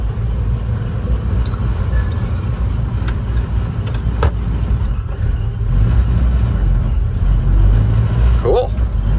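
A 1941 Ford fitted with a T5 transmission drives on a test run, its low engine rumble steady and close throughout, swelling slightly louder in the second half as it moves along.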